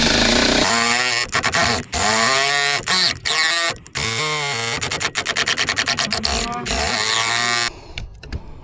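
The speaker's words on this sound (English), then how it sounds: "just start going through. It starts to get stuck in its hardwood. Back it off. Start it again." A power driver sinks a screw into hardwood for a ceiling fan mount, close up. Its motor whines loudly in several bursts, and the pitch sweeps and bogs down as the screw binds. There are short stops and restarts, and no talk.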